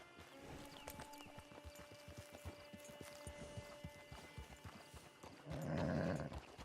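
Horse hooves clip-clop at a steady walking rhythm in Red Dead Redemption 2, near and moderately quiet over a low hum, ending with a louder burst that may be a snort or whinny.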